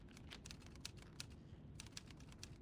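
Crisp typewriter keys clatter in quick irregular bursts alongside a telegraph in a little room, close and moderately soft, with a brief lull midway and no speech.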